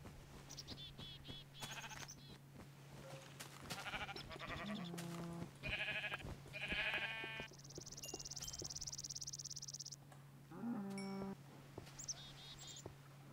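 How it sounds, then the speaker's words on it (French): Sheep bleat in a Minecraft game, several short nasal calls scattered across a steady droning background with chirping insect-like ambience and a faint hum, moderately close. "Ah, bonjour les moutons."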